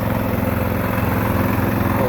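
A rotary tiller's engine works the soil of a farm field before direct seeding, a steady, loud, throbbing motor drone with an even pulsing rhythm and no break.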